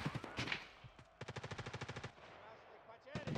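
A burst of rapid automatic gunfire sprays in the Escape from Tarkov Arena shooter, loud and close, with a single shot before it and more shots after, all over a brief pause in game noise.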